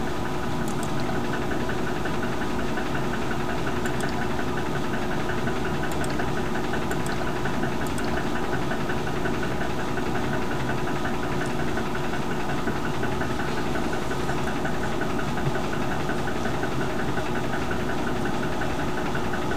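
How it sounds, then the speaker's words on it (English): Roller coaster climbing its lift hill, a steady mechanical rumble and droning chain clatter running unbroken and fairly loud, with faint clicks above it and no talking. "Let's ride the coaster. Ooh, perfect. It's on the lift hill."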